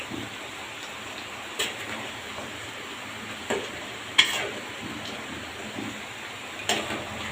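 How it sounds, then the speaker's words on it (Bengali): Country chicken and potatoes sauté in a pan for a spicy curry, with a low steady sizzle under occasional distinct knocks and scrapes of a spoon against the pan. "এখন আরও কষাবো আলু দিয়ে আরও কষাবো"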